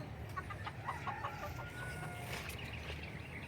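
Gamefowl roosters cluck in short, soft bursts against a steady low background hum, faint and somewhat distant.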